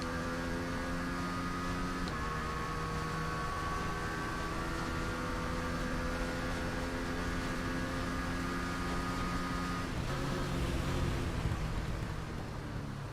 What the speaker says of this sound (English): There's the glorious sound of the Norton down the back stretch.